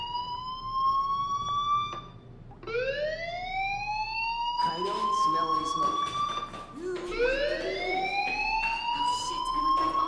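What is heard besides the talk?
fire alarm ringing in Life Is Strange video game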